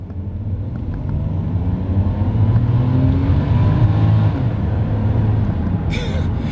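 Nissan Stagea RS4 wagon pulling hard through first gear, a loud, steady engine drone that builds then holds, heard from inside with road rumble and a brief clatter near the end.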